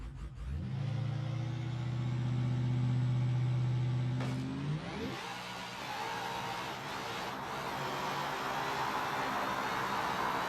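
A very fast drag truck in BeamNG.drive makes a pass: a loud engine revs and holds a strong droning note, then the pitch sweeps up sharply as the truck launches and accelerates away, followed by a broad, rougher running roar.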